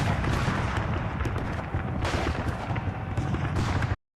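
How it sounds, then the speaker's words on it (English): Civil War battle sound effect of massed musket gunfire and booming artillery, a dense continuous roar of overlapping shots and blasts, loud and close, cutting off abruptly at the end. "both sides settle into the horrifying monotony of loading and firing"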